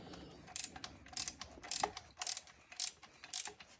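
Bolts are loosened with a ratchet on the bracket of an Allis Chalmers Model G tractor. Rapid bursts of clicking ratchet strokes come in short repeated runs, faint and close by, with no talk.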